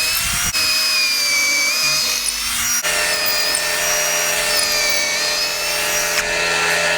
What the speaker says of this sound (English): Now that we drilled our beam